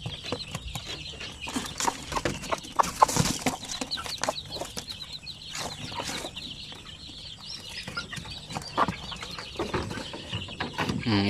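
A Basilan hen and her chick cluck and cheep close by on a chicken farm, in irregular bursts of short calls with some louder squawks and scratchy movement, with no talking.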